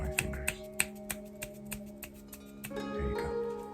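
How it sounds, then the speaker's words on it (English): Crisp finger snaps repeat at an even pace, about a dozen close, quiet clicks over a soft sustained background tone. "There's a difference between snapping my fingers and knowing I'm snapping my fingers"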